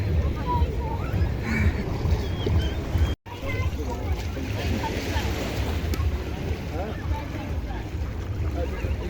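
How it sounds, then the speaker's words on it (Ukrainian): Ocean surf and water splashing around swimmers, a steady broadband wash with scattered splashes, briefly cut off once, with voices faintly in the background. "Тож ми прийшли все ж таки купатись в океані"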